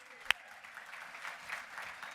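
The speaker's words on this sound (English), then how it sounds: "Let's have a round of applause for Casey." An audience at a Democratic summit breakfast applauds a speaker, a sharp loud clap or knock up front followed by a steady wash of crowd clapping that holds at moderate level throughout.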